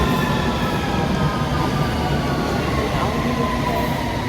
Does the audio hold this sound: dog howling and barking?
no